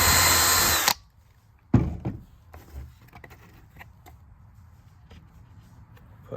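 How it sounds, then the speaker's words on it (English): A power drill boring a pilot hole in wood while building a DIY nesting box: a loud, steady whine for about a second that cuts off abruptly, followed by quiet handling knocks, clicks and light taps. "First thing I'm gonna do is drill a pilot hole again."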